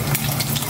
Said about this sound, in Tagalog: prito po ako dito ng 2 egg lang